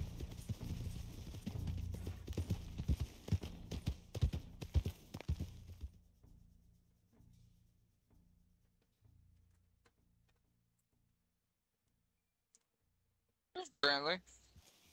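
Horse hooves clip-clop in the video game Red Dead Online, a steady stream of hoofbeats under talking that fades out midway, followed by near silence and a brief sharp sound near the end.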